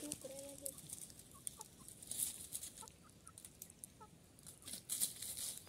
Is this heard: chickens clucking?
yes